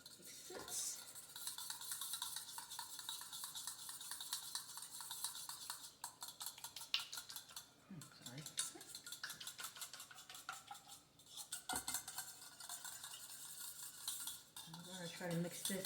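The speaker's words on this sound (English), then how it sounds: "Try to mix this until most of the mayo is dissolved in there." A spoon stirs mayo into a low-carb dish in a bowl, giving continuous quiet scraping and clinking in a steady rhythm with brief pauses, faint and close.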